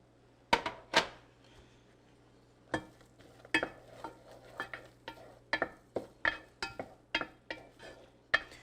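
Celery being stirred into a cooked butter-flour roux in a pan, with a series of sharp spoon scrapes and taps against the pot, roughly a dozen distinct strokes over a faint low sizzle, close and fairly quiet.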